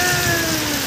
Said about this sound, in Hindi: देखते हैं कब तक पानी रुकेगा